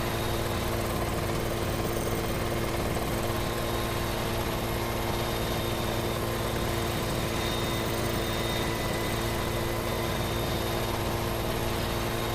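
Helicopter in Farming Simulator 17 on a big Corn Belt farm map, a steady droning rotor and engine hum with a low rumble holding constant and fairly loud throughout, no pauses or talking.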